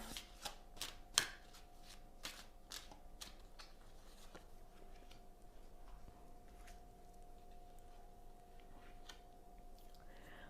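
Tarot cards being shuffled before one is drawn, a few crisp riffles and taps near the start fading to quiet room tone with a faint hum.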